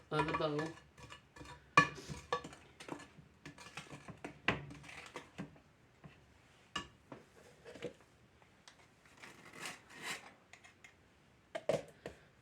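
A spoon stirs cookie dough in a bowl for candy bar cookies, scraping and knocking against the sides in irregular bursts, close and moderately loud, with quiet pauses between.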